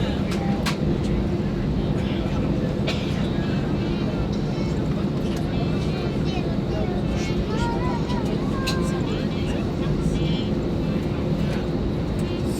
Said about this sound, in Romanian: A pornit avionul.